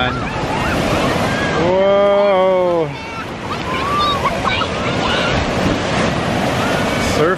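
Ocean surf rolling onto a windy beach on the Lake Michigan shore at Sheboygan, Wisconsin, a continuous roar of waves and wind buffeting the microphone, with a voice exclaiming and other voices faintly in the background.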